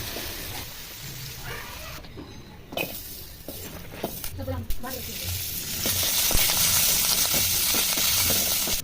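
Sliced okra frying in oil until golden for a ground okra chutney, giving a steady crackling sizzle that swells toward the end, with brief handling noises and a faint voice at moments.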